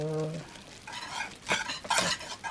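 Gelatin being stirred until it dissolves, soft scraping and clinking strokes in a pot, fairly faint, with a short hum at the start and a voice speaking over it.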